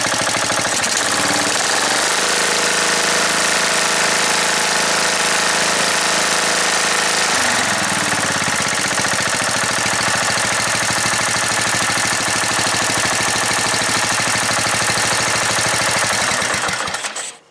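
A riding mower engine with a rebuilt carburetor runs loudly and steadily at a high, fast idle for a long stretch, then cuts off abruptly at the end.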